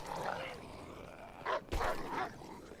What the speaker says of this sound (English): The dogs can be kind of a problem.